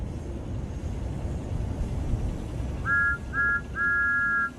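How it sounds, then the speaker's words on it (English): Steam engine whistle from Thomas the Tank Engine, two short toots then a longer held blast, clear and fairly close over a low rumbling background. "That's Thomas's whistle. All steam engines have whistles."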